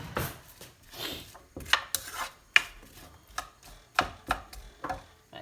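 Onion and garlic are grated into a pan: uneven rasping strokes and scraping knocks, close and fairly quiet, with irregular sharp hits.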